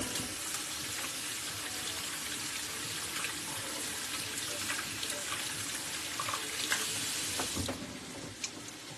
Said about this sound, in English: Alright, I'm gonna wash this off.